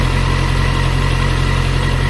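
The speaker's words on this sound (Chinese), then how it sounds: "我现在挂1档，然后直接几乎用怠速开" A VOGE RR660 motorcycle engine runs at near-idle in first gear, a loud, steady, even drone with a low throbbing hum and no voices.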